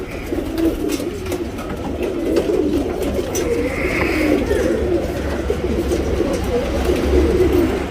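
Pigeons of a tournament-ready flock coo steadily and softly in a continuous murmur, with a low hum and faint background noise and no clear talk.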